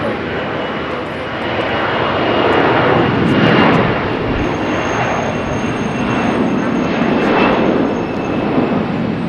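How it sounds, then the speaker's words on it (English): A jet airliner roars loudly and continuously at Charlotte Douglas International Airport, a dense broadband rumble swelling and holding close by for several seconds with no voices. "these planes are really, really loud today."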